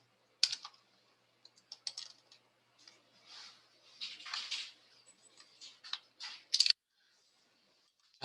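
Computer keyboard keys clack in short irregular bursts during a spreadsheet lesson, with a few louder taps near the end like the Enter key being struck, close and fairly quiet with silent gaps between.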